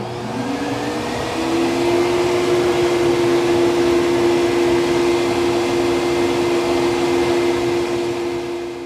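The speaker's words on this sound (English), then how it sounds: "Just got finished flow testing the head stock on the 4030 bore" Flow bench pulling air through a stock Edelbrock RPM cylinder head mounted on a 4.030-inch bore, a loud, steady vacuum-like roar with a constant tone that swells up in the first second and holds to the end.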